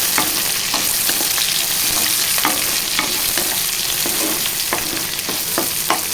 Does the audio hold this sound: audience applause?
no